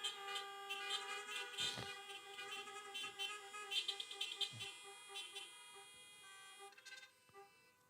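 Car horns at a drive-in church service sound in a cluster of overlapping honks and toots of different pitches, some longer and some short, fairly faint and from a little distance.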